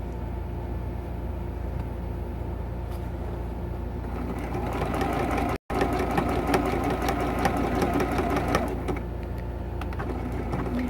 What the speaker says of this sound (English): I'm going to sew down just a little bit further and then we're going to stop.